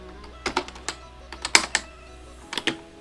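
Someone types a command on a computer keyboard: quiet, scattered keystrokes in short bursts separated by pauses.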